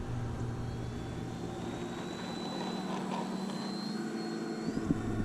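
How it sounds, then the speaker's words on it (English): A full-size aircraft drones overhead near a runway, its engine tone slowly rising and sweeping across the sky over a steady background rumble. "Gotta be careful, there's a real plane coming overhead."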